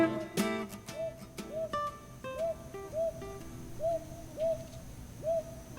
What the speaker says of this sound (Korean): 이 소리는 밤에 솔부엉이가 영역을 알리기 위해 내는 신호입니다.